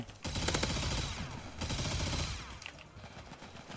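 Rapid gunfire from the Duel Blasters gun in the Roblox game Hypershot, a dense burst of fast shots lasting a couple of seconds, with another short burst after a brief pause and then tapering into scattered quieter sounds.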